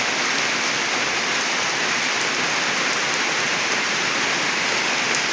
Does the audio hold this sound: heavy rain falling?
yes